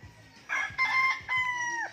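Several roosters, red and white birds lined up at a fighting-cock farm in Tanay, Rizal, crow in three overlapping bursts close by, each rising and then holding a long call, over a quiet low rumble.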